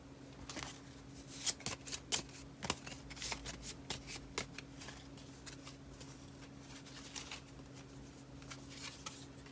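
Tarot cards being shuffled by hand, a quiet, close run of soft riffling flutters and crisp card snaps in irregular bursts, with a faint steady hum underneath and no talking.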